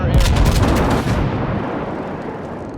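Naval gun salvo from a warship in World of Warships, a loud booming blast and rumble at the start that rolls off into a fading, lingering roar.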